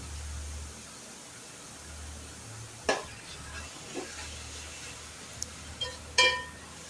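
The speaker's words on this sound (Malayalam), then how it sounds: "ഇത് നല്ലോണം ഇനി വറുത്തെടുക്കണം" Spring onion stalk thoran with egg being stir-fried, with soft low sizzling and a few sharp scrapes and clinks of a spoon against the pan at irregular intervals.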